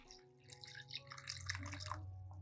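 A baking soda solution is poured into a container of stones, starting as a faint trickle and swelling into a soft, steady splashing that continues to the end, with no voices.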